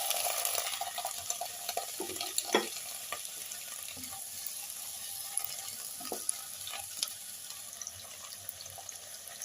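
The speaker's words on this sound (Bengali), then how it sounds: "এবার ভালো করে নেড়ে নিয়ে এতে মিডিয়াম সাইজের 5টা টমেটো কেটে রাখা দিয়ে দেবো।" Chopped tomatoes added to a pan with cardamom and cloves are stirred and fried for a chicken butter masala, a steady sizzle with a few sharp spoon scrapes and knocks, fairly close and alone without talk.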